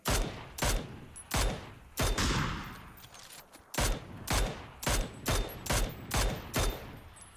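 Gunfire in the battle royale game PUBG on the Erangel map during a duo match: sharp, loud shots in quick bursts, a brief lull, then a steady run of evenly spaced single shots.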